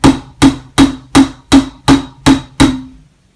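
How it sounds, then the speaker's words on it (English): Eight sharp metallic hammer blows strike a bike's handlebars in a steady, evenly spaced rhythm, each ringing briefly before the next, loud and close with no talking. "I'm going to take my mighty hammer."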